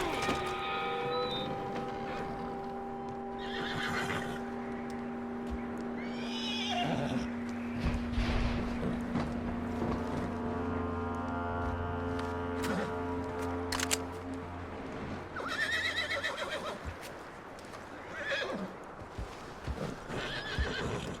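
A horse in the video game Red Dead Redemption 2 gives loud whinnies and snorts amid clip-clopping hooves, camera-like clicks and other game sounds, with the bursts of neighing coming close and repeated over about twenty seconds.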